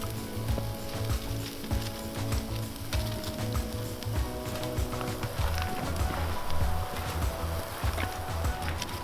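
Food sizzles on a GOSO mini cooktop running with its flame turned up too high outdoors in the bush, a faint, steady crackling hiss over a rhythmic low pulsing.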